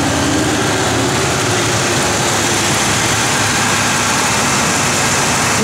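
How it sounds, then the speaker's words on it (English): A 1971 Oldsmobile Cutlass SX engine runs steadily and loudly up close, a continuous low rumbling idle throughout with no clear separate start-up moment. "Fires right up."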